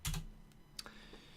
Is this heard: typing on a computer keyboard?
yes